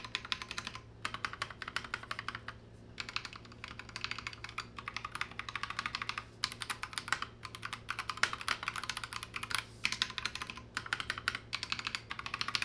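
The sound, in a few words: typing on Akko 3068B mechanical keyboard, lubed stabilizers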